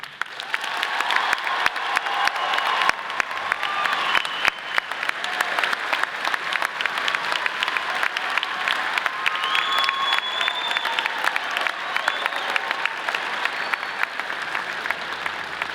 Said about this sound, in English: please stand so we may applaud your success